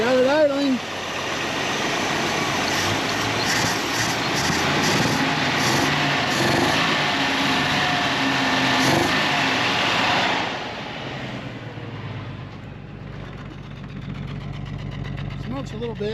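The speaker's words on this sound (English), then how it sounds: "So we got it idling." The Misfit truck's engine idles steadily and fairly loud, a rough continuous rumble, then drops to a quieter, lower idle partway through while people talk nearby.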